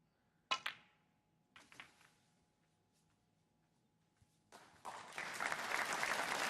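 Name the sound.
snooker audience applauding a shot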